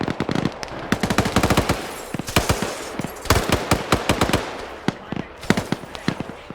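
M2 heavy machine gun fire in a video game rattles in dense, rapid bursts with sharp cracks and pauses between volleys, loud and near, with scattered distant shots between them.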